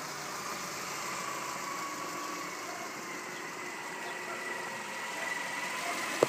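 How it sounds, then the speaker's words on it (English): A 2006 Subaru Forester engine idles smoothly and quietly, a steady low hum with no abnormal knocks, heard alone with a small click near the end. "There's no really abnormal noises from the engine. It runs smoothly and quietly."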